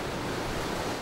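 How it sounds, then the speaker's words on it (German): Stormy Atlantic Ocean surf at the Bay of Winds pounds steadily, a dense, continuous roar of big waves mixed with gusting wind buffeting the microphone, loud and close with no pauses. "Hier tobt der Atlantische Ozean mit stürmischen Winden und meterhohen Wellen."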